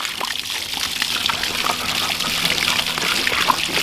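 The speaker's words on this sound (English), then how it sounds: "I've been adding water to their mud hole here after the water trough fills up" Water from a hose runs steadily into a filled trough and an animal mud hole, a continuous close splashing trickle with no pauses.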